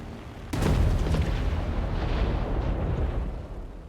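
A sudden loud explosion in War Thunder booms, followed by a long rumbling roar that slowly fades over several seconds.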